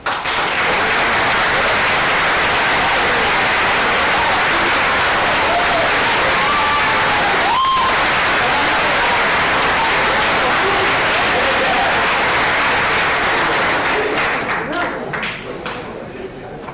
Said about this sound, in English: please stand up, and if we could give them a round of applause